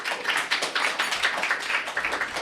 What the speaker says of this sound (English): Please clap for Mitchell L.H. Douglas.